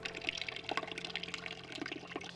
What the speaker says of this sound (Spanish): Agregamos agua hasta la mitad.